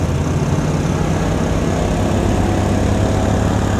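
A TVS Apache RTR 160 Special Edition motorcycle engine runs steadily in third gear at close range, a rough, even rumble with a slight rattling vibration as the whole bike shakes.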